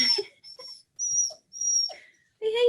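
A dog whining and whimpering to be let out, in high thin whistle-like cries broken by short pauses and ending in a louder yelp-like call, close by with no talk.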